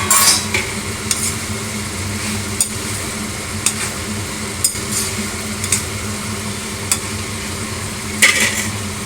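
Potatoes fry in a salted, spiced masala in a pan for a pomfret fish dish: a steady sizzle with a spatula stirring and scraping at regular intervals, clinking against the metal pan.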